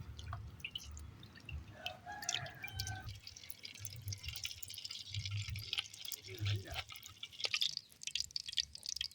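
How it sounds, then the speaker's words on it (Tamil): Oil is poured into a hot pan for frying urad dal vada made with potato, producing a brief gurgling pour and scattered drips up close, with faint talk in the background. "இப்போ சட்டி சூடாகிட்டுது. எண்ணெயை விடுவோம்."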